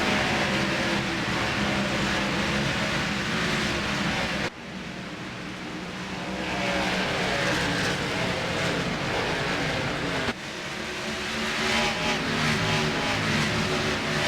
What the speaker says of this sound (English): Pace car off. Waiting for the leader. Hensley's off and away. Green flag here at Rockingham